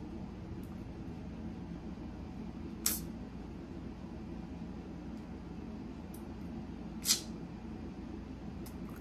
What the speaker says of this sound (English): I'm gonna spray these one time